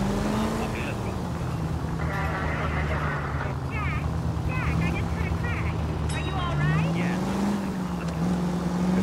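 Car engine droning steadily while driving in the video game L.A. Noire, a continuous low hum with pitch shifts under nearly constant talk.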